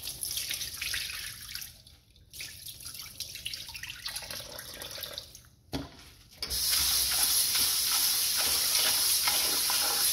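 Tap water runs into a sink to rinse pork skin, a steady close rush that thins and briefly stops midway, then returns stronger and fuller until the end.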